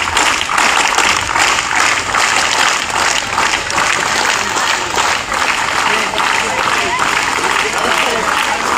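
Scouts at a cub camporee opening ceremony in Pirganj, Rangpur, clap steadily. The loud, unbroken applause fills the whole stretch, with a voice faintly over it.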